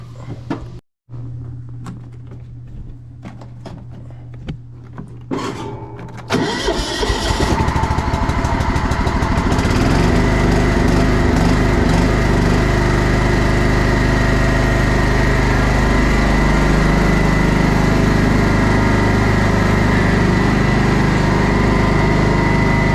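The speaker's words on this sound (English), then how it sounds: "We're going to get this John Deere 265 going and drive out back" A John Deere 265 lawn tractor's small engine cranks and catches, then runs steadily and loudly at a rough idle, preceded by a few clicks and clunks.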